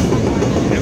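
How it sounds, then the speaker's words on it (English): A short freight train rolls past the New York State Fairgrounds, a loud, close, continuous rumble with steady wheel clatter filling the whole moment. "I think this is a short freight train."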